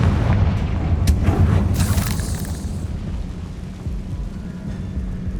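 A Confringo fire-blast spell explodes in the video game Hogwarts Legacy, a loud, deep booming blast with a sharp crack at the start that rumbles on and slowly fades.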